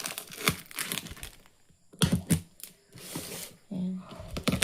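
Packing tape ripped off a cardboard parcel of succulents by hand, heard as several sharp tearing and crinkling bursts with pauses, close and fairly loud, with a voice talking between them.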